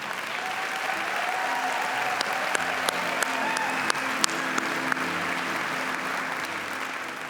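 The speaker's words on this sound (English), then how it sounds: "How about another round of applause for this year's class?" An awards-ceremony audience applauds the graduating class, a sustained, even wash of clapping from a sizable crowd, with a few sharper nearby claps standing out over the steady roar.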